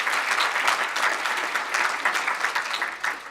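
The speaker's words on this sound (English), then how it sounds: "give him a round of applause" A room of listeners gives a speaker a warm round of applause, a steady, lively mass of overlapping claps at close range with no talk over it.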